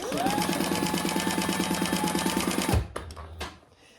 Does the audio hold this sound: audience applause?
no